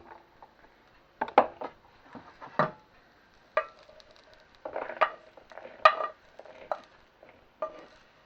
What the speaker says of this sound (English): So now what we're going to do is transfer this into a bowl.